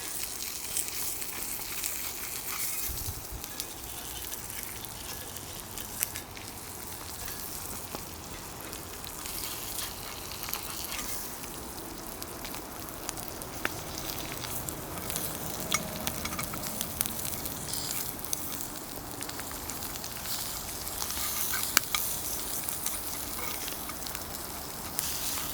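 Food sizzling steadily in a pan on a camp stove during solo van camping, with a cheese grater used in place of a spatula; a continuous broadband fry with scattered small clicks and scrapes, no talking.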